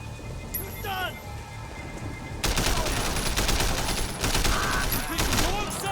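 Sustained, dense bursts of gunfire in the video game Sleeping Dogs erupt after a short voice and a stretch of quieter background, continuing loud and rapid to the end.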